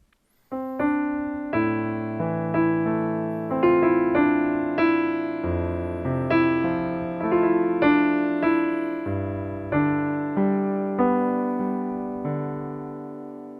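Both hands together on piano play a passage of a piece, a repeating melody over shifting low bass notes in a steady, flowing rhythm, close and moderately soft with notes ringing into one another.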